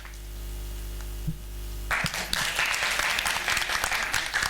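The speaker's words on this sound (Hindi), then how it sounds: "जोरदार तालियों से हमारे संजय सर को आप लोग ऑनर दीजिए" Audience applause breaks out after a stage play performance of Saiyan Bhaye Kotwal, starting abruptly midway after a steady droning hum and continuing as a dense, fairly close wash of clapping.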